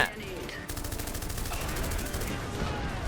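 Gunfire from mech units in the Iron Harvest strategy game, a set in an alternate 1920: a loud, sustained, dense burst of rapid shots and explosions filling the whole clip.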